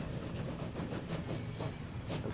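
A passenger train in the Transport Fever 2 video game rumbles along the tracks as it arrives at a station, with a steady low roll, faint rhythmic clacking and a thin high squeal of wheels above.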